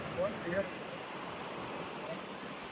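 Sea waves surge and break onto the shore on a full-moon day, a steady wash of surf noise throughout with a few faint bird-like chirps early on.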